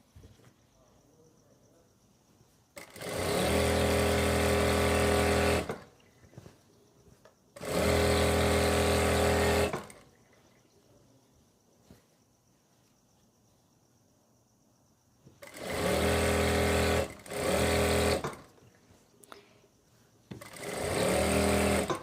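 Electric sewing machine stitching a seam on palazzo pants, running in three steady bursts of a few seconds each with quiet pauses between, close and loud.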